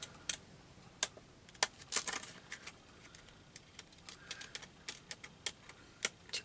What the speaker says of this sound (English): to cut a little scallop border